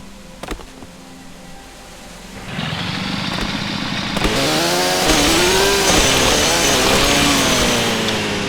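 A chainsaw in the survival video game Starforge idles faintly, then revs up into a loud, sustained buzzing whine that climbs and holds steady to the end.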